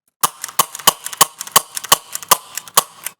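CO2-powered Rekt Nerf pistol fired in a steady series of about a dozen sharp, loud pops at roughly three per second, close up with no talking.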